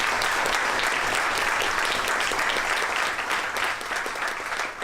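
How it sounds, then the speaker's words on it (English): A crowd gives Diane a warm round of applause, many hands clapping in a loud, continuous, slightly uneven burst that carries on for several seconds before thinning at the end. "if we could just give her a round of applause real quick for what she does"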